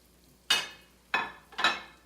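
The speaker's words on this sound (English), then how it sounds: "You want it to sizzle." Raw beef pieces laid into hot oil in a pan on the stove, giving three separate bursts of loud hissing sizzle that each fade off, close up with no talking.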